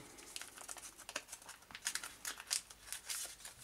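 Crinkly plastic packaging for a Shark Proof wipe-on liquid screen protector is torn open and handled up close, giving bursts of crumpling and ripping that grow louder toward the end.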